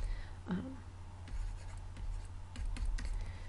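Soft scratchy strokes of writing on a surface during a genetics lesson, faint and intermittent against a steady low hum, with brief scribbles spaced across the few seconds.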